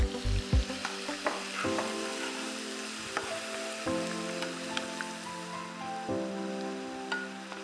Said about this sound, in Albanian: Spare merni dhe i fërgoni qepet me karotat.